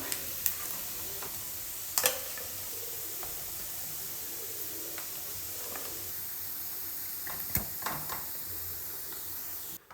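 Steady sizzling of chicken frying in hot oil, with a few sharp clicks and stirring clatters scattered across the clip; no voices.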